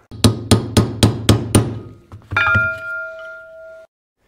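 Six sharp, evenly spaced hammer blows ring out close by while knocking a seal from a Caterpillar D4 final drive, followed by a metallic clank and a lingering ringing tone.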